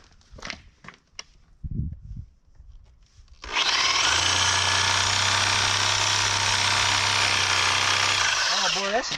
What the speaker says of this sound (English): It's a pretty fine tooth Sawzall blade.